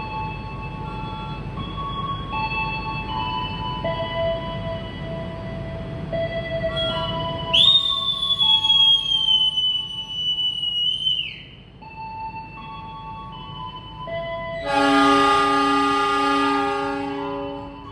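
A loud train horn blasts with a long sustained tone, then a second horn sounds, over the steady rumble of a KA Lodaya train departing a station in Indonesia.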